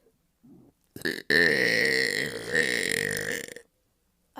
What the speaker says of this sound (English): which burp was the longest